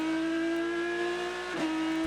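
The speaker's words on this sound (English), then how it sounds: "One of the nicest in-car audios as well, if we just listen as he accelerates." Aston Martin V12 Vantage race car recorded onboard during the Rolex 24 at Daytona, its 12-cylinder engine holding a loud, steady high-pitched scream with a brief dip and recovery near the end, continuous and close.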